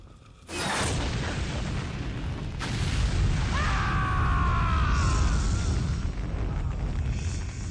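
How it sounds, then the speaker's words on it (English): A boss character called Cobra blows up at the end of a fight in a Kojima video game, giving a heavy booming blast with roaring rumble and debris that carries on loud for several seconds, with no talking over it. "He also has the best explosion."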